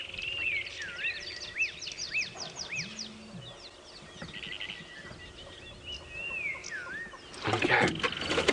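African bush birds, including shrikes, black-backed puffbacks and small seedeaters, sing and call outdoors at dawn: repeated whistled phrases and chirps at moderate distance, a brief low rumble, and a burst of louder noise at the end.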